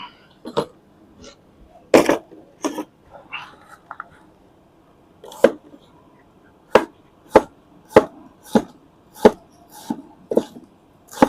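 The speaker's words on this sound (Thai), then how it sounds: "เรามาหั่นหอมแดงใส่ครับ" Knife chopping shallots on a board while cooking an Isan soi ju dish at a backyard hut, a string of crisp, close, evenly spaced cuts, with quiet mumbled talk early on.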